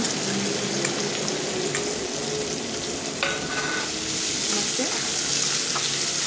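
Two large sliced onions sizzle and fry in a pan for Goan potato bhaji, a steady crackling hiss throughout with occasional scraping stirs and clinks.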